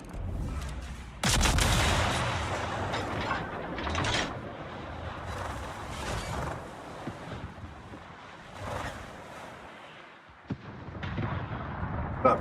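Naval gunfire from warships in the video game World of Warships: heavy booming salvos and bursts of cannon fire at irregular intervals, loud and close, with rumbling explosions between shots.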